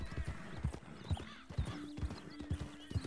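Hooves clip-clop in a quick, steady rhythm with an occasional horse snort or whinny, moderately close, in Red Dead Redemption 2.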